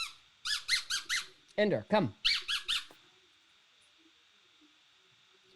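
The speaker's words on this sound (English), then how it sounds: "who's using his squeaky toy" A pet squeaks a squeaky toy in quick, loud bursts, three squeaks, then two lower ones, then three more, before the sound stops; a person speaks briefly near the squeaks.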